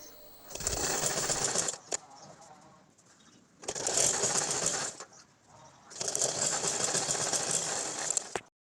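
A sewing machine runs in three long bursts of steady whirring stitching, folding over a churidar hem, with short quiet pauses between the runs.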